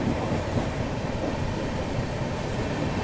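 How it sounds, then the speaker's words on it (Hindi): Deccan Queen express train pulling out of Mumbai CSMT station, a steady low rumble of wheels and carriages filling the whole stretch at moderate, even loudness with no speech. "तो अभी अपनी डेक्कन क्वीन निकल चुकी है मुंबई के CSMT रेलवे स्टेशन से।"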